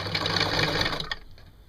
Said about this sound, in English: Amazing things, sewing machines